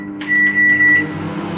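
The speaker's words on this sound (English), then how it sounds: "So the microwave is working correctly." A microwave oven that is not heating properly hums steadily and gives a single loud, close electronic beep.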